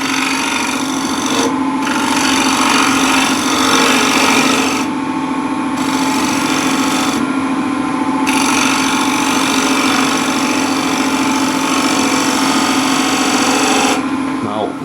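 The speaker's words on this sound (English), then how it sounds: "And now 10mm spindle gouge, back with the refiner." A woodturning lathe spins a trinket box workpiece while a 10mm spindle gouge cuts, giving a steady humming motor tone under continuous scraping and rasping, close and loud, with brief breaks in the cutting.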